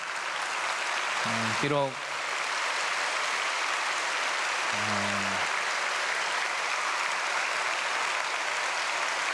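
Steady applause fills a church during a Wednesday prayer service, continuous and fairly loud throughout, with a few brief spoken words near the start and middle.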